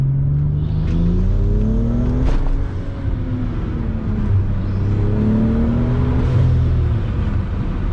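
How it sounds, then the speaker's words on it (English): A 500-horsepower BMW 335i pulls hard in second gear, its engine note climbing steadily in loud, continuous rising sweeps with a brief dip partway through, heard close from inside the car without talk. "this car rips"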